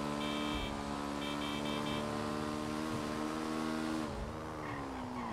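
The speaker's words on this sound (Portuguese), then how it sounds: "E vou acelerar a motinha" Motorbike engine revving and accelerating in the video game GTA V, a steady loud harmonic engine drone that rises and dips over several seconds, heard alone without talk.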